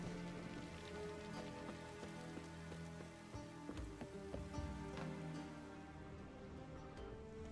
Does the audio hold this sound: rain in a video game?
yes